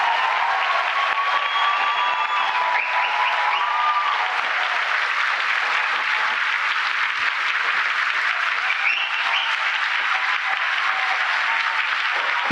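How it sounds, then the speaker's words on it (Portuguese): Sustained, even audience applause fills a hall at a Brazilian government ceremony where a full-time school program is signed into law, with no pauses across the stretch. "uma salva de palmas para eles."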